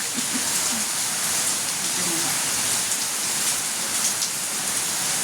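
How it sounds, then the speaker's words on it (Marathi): Steady heavy rain pouring down, a dense continuous hiss that stays loud throughout, with a faint voice briefly under it. "पाऊस बाबा"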